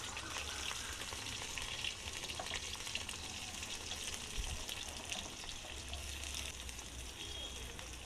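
Chopped onions frying in a pan while a Bengali fish dish is prepared: a steady, close, broadband sizzle that runs the whole time with little change in level.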